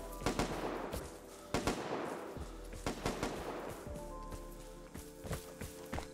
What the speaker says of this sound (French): attends, ça tire.